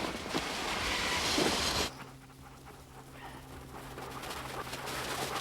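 Rapid panting of dogs, loud and close for the first two seconds, then quieter breathing over a low steady hum.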